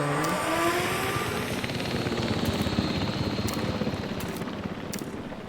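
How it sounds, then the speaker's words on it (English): A large helicopter in the video game Jurassic World Evolution 3 makes a steady, loud rotor drone with a rapid chopping pulse, heard close and continuous alongside a few faint interface clicks. "It's like the biggest helicopter."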